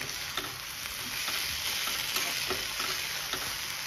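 Paneer sizzles hard in a hot pan as chilli sauce goes in, a steady close hiss broken by soft stirring clicks, with no talking.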